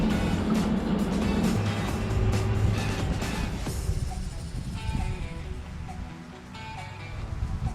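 A 1978 Jeep Grand Wagoneer barn find is moved out with a low, rumbling engine and rolling vehicle noise close by, uneven and steady for several seconds amid some clunks and outdoor background.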